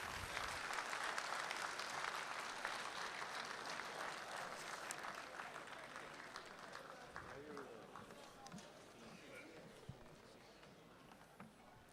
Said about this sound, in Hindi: आपकी बहुत सारी तालियां डॉक्टर गुलजार देहलवी के लिए प्लीज़